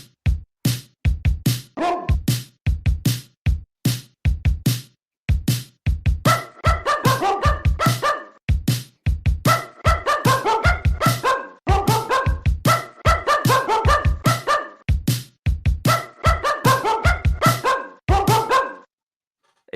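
A dog vocalizes in a loud, repeated pattern of barks and yips, the later phrases stretching into a tuneful, singing howl as it mimics a theme tune, with no talk over it.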